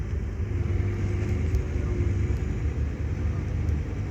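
An old skid steer loader engine running at a steady, fairly loud rumble nearby at a soil yard, a continuous low drone with no pauses.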